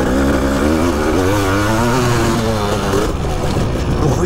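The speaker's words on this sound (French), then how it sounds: "Bruit démoniaque. Évidemment, ça pousse, hein, c'est une 500." A 1988 Yamaha 500 YZM factory prototype racing motorcycle with a 500 cc two-stroke engine revs hard up close, a loud, rising and falling snarling wail that surges continuously throughout.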